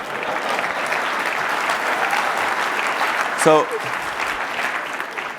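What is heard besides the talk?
audience applause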